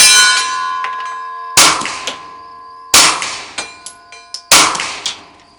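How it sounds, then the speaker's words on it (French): Bullets from a Glock 17 pistol strike a metal target in four loud, ringing clangs spaced about a second and a half apart, each leaving a long metallic ring with smaller rattling knocks between them. "quand je tire dans le métal, partie grosse, on entend vraiment le son"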